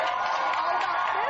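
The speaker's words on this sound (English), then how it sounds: "Why are they applauding?" A studio audience on a TV show cheers and whoops continuously, a dense, steady crowd roar with no clear breaks.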